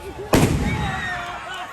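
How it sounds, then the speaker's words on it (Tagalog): A single loud, booming cannon blast erupts at a Cinco de Noviembre commemoration, followed by a rumbling decay and crowd murmur in the background. "para saksihan ang liwat nga pagsigabong sa mga kanyon"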